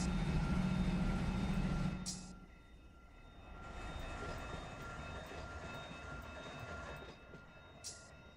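BNSF freight locomotives rumble in the Run8 train simulator, a low mechanical drone that eases after a couple of seconds and then settles into a steady engine hum, with short high electronic tones at moments.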